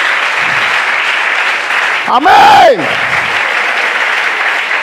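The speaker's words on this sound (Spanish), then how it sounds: "Alguien que lo aplauda esta tarde." Church congregation breaks into loud applause during a Spanish-language Christian sermon, a steady crowd clapping wash that swells and holds, with a voice shouting over it partway through.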